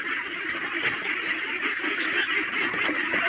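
A flock of month-and-a-half-old ducks quacks excitedly and nonstop, an overlapping loud chorus of calls with no pauses and no voices.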